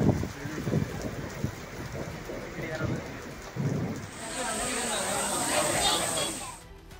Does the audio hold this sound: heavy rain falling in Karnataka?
yes